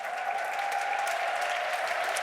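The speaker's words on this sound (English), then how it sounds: "The cheers that we heard have been the loudest we've had here at the Festhalle all week long." A large esports crowd at the Festhalle in Frankfurt cheers and applauds during a Dota 2 Major match, a dense, steady roar of clapping with no letup.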